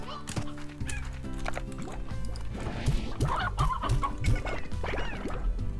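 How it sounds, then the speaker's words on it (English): Many chickens cluck in the video game Slime Rancher, a busy flurry of short repeated clucks layered over steady game music, with a few other animal-like calls mixed in. "Oh, that's a lot of chickens."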